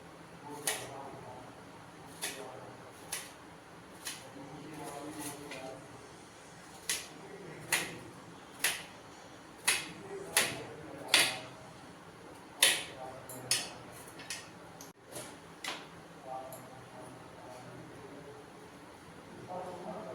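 Knife chopping onions on a cutting board at home: irregular sharp taps, about one every second, over a low background hum and faint murmur.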